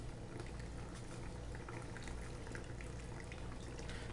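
Water washes through a Gold Hog 1 lb paydirt sampler on a modified miller table, a continuous low bubbling, trickling flow with small drips and no speech.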